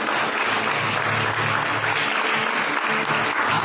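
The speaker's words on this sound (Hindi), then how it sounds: "ताली नहीं बजाते हो?" Loud, dense audience applause at a Hindi-language Christian worship service, sustained and even throughout without any voices.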